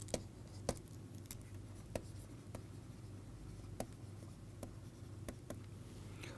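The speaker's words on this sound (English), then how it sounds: "I will just write the title" A pen scratches steadily across paper during a lecture on RFID protocols, writing out a title by hand. Soft continuous scraping is broken by several sharp taps, heard close with no talking.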